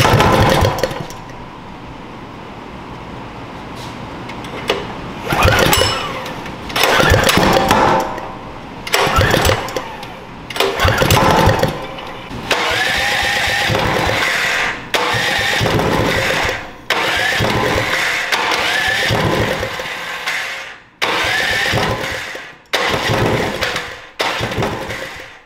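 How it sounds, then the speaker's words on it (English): A propane-fueled, supercharged 439cc small engine is cranked repeatedly but fails to start, giving loud bursts of whirring and sputtering that cut out between attempts, each catching only for a split second. "Okay, so obviously the engine's not starting."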